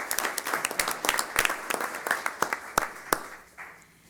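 Audience applause at a city council meeting, a dense run of sharp claps that thins out and fades toward the end, heard alone without talk.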